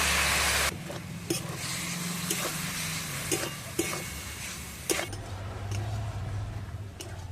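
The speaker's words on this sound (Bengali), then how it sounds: "পরিমাণ মতো নুন অল্প জল দিয়ে মশলাটা কষে নেব" Spice masala with salt and a splash of water cooks down in a pan for a freshwater snail curry, giving a steady close sizzle broken by periodic sharp spatula scrapes.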